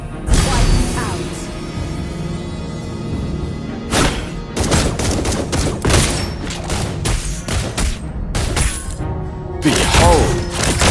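In the Mobile Legends game, the hero Granger fires dense, rapid bursts of gunfire in loud repeated volleys with crisp impacts and whooshes, over a constant layer of battle effects and music.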